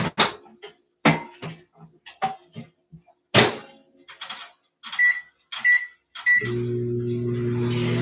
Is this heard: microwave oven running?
yes